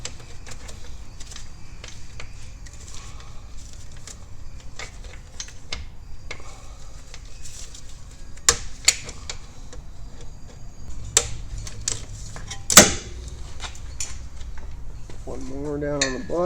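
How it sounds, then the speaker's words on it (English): Bolts coming out of the back of a Can-Am Defender cabin: close, scattered metallic clicks, ratcheting ticks and sharp clinks of tools against metal, with a few louder knocks over a low background hum. "then we can go ahead and remove the bolts that are attaching this to the back of the cabin"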